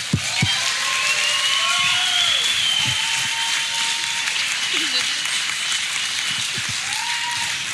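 Parents at a church ceremony for their grade 7 children applaud and cheer, a dense continuous wash of clapping and whoops that holds steady and loud the whole time, with a voice speaking over it.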